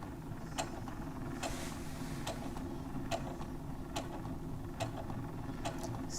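A sewing machine stitches forward along an existing seam, its faint steady whir punctuated by regular sharp ticks roughly every second, close by and alone without speech.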